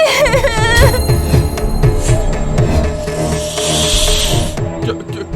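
A cartoon-style snake hiss rises over a busy, loud animated comedy soundtrack with music, swelling into a sustained sharp hiss near the end.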